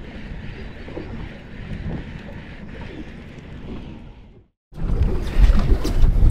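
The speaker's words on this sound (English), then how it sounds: "The wind's starting to pick up." Strong wind buffeting the microphone on a fishing boat out on the water, a steady broadband roar that cuts out briefly and then returns louder and gustier.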